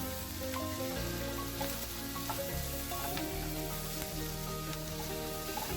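Squid roast with plenty of curry leaves sizzles in a pan over low flame, a dense, continuous frying crackle heard up close with faint stirring taps and no talking.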